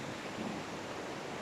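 A waterfall on the Cwm du Glen trail near Pontardawe, Swansea, pours as a steady, dense rush of white noise, heard close up from a ledge in front of it with no other sounds.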